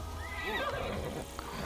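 A war horse whinnies in the video game Immortals Fenyx Rising, a clear, loud rising-and-falling neigh under steady ambient noise, with faint hoof clip-clop.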